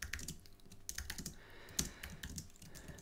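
Rapid clicking of computer keyboard keys while code is typed, a close, busy patter of irregular keystrokes with a few louder taps, no one talking.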